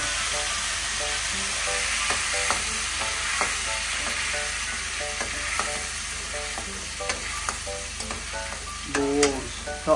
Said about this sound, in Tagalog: And saute-saute lang natin.